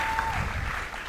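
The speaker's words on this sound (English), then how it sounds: "an almighty round of applause again for this set of contestants." An audience at a maths quiz final applauds contestants in a short, steady wash of clapping, with a faint voice or tone briefly heard over it.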